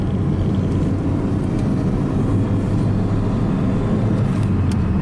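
An Audi 80 with worn suspension and growling bearings driving along: a loud, steady low engine and road rumble from inside the car, with no speech.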